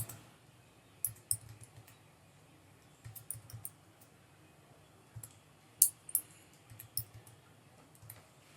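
Computer mouse clicks during a software setup demo, sparse sharp taps in small irregular clusters over a faint quiet room hum, close and with no talk.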